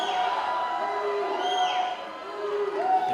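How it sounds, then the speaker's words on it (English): Franklin teammates cheer and whoop from the deck at the Hockomock swimming championship, a loud, steady crowd roar with shrill whistles and shouts rising and falling throughout. "His Franklin teammates cheering him on."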